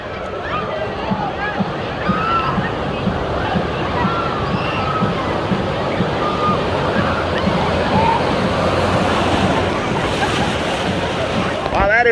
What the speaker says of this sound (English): This is Poseidon's Rage, their wave pool. And it's not just a regular wave pool. It shoots waves up to about 9 feet tall